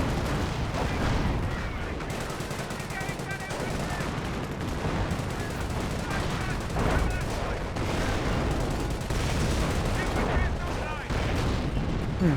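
Rocket barrage from a half-track in Company of Heroes, a dense roll of overlapping blasts and explosions that runs steadily through the whole stretch, with game-commentary talk layered over the din.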